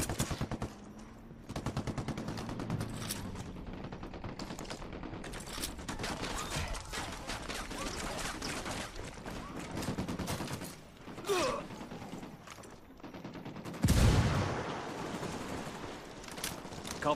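Sustained automatic gunfire in Ghost Recon Wildlands, dense rapid bursts rattling almost continuously, with a heavier close blast near the end, loud and dominant throughout.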